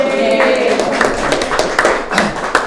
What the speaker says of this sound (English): We give her a round of applause.